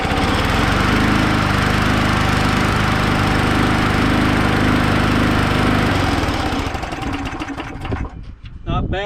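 A Hinz 57 lawn mower that had sat unused for over a year runs loud and steady close by, its throttled engine droning on before the sound thins and tapers off near the end.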